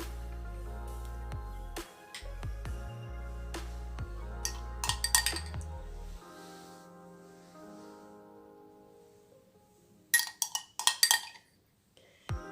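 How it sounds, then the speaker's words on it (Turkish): Metal spoon clinking against glass as yogurt is spooned onto a red cabbage, cherry, oat and apple drink, with scattered bright taps, a quieter stretch, then a quick burst of clinks near the end; no one talks. "Üzerine şimdi yoğurdumuzu bir kaşık koyalım."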